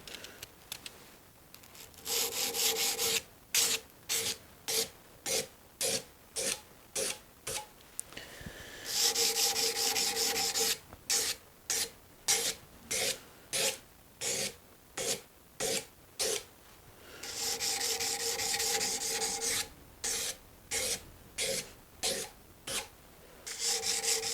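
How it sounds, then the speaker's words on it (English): A spoon knife is sharpened with a long run of rhythmic rasping strokes, close and steady, with brief pauses and a few longer continuous rubs between the evenly spaced passes. "we're going to make this super bad just by sharpening over again"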